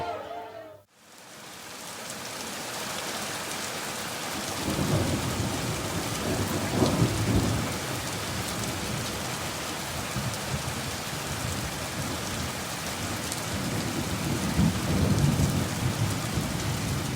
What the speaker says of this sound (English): This is some heavy rain, storm, and thunder.